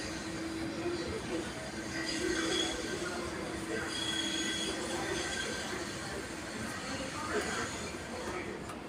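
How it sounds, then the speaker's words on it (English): A Gold Coast Light Rail G-Link tram, Unit 8, pulls away at Helensvale station with a steady rolling rumble and thin wheel squeal, moderately distant, under a continuous bed of platform ambience. "we have Gold Coast Light Rail G-Link Unit 8 departing for a service to Broadbeach South"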